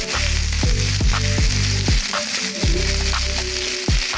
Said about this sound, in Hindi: 2 बड़े शिमला मिर्च काट लें और 1 टेबलस्पून ऑलिव ऑयल में हल्का फ्राई कर लें